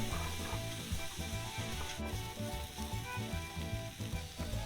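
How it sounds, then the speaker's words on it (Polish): Steady loud sizzling of vegetables frying in a pot for Bolognese ragù, with occasional scraping of a utensil, no voices. "W tej chwili naszym zadaniem będzie przesmażyć warzywa"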